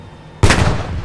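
A single loud, close cannon shot from a StuG III assault gun in the Post Scriptum war game, an abrupt heavy boom that decays into a rumbling roar.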